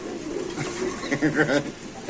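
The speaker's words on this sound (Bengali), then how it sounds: "এখানে আছে কিছু কবুতর" Pigeons coo softly nearby in a few throaty, rolling calls over a low background murmur.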